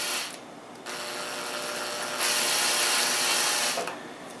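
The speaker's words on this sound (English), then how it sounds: "So let's go ahead and drill a hole." Power drill boring a hole for a Magpul kit installation, a steady high whirring with the motor starting, pausing briefly and revving louder, close by.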